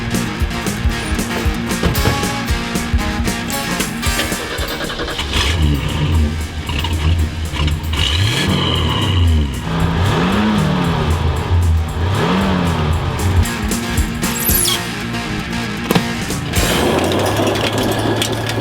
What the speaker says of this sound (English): my new daily driver, the Big Six. a 66 Ford